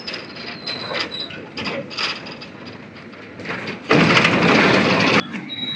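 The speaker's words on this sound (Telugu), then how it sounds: "ఒక ట్రైన్ అయితే వెళ్తుంది Vijayawada side Tadepalligudem railway station నుంచి" A train leaving Tadepalligudem railway station toward Vijayawada, a moderate rumble with rhythmic clatter and a sudden louder roaring burst near the end.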